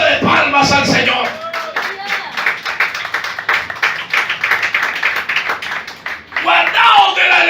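Church congregation claps together in a steady, rapid rhythm for several seconds. Voices sound at the start and the end, and loud speech rises over the last moments.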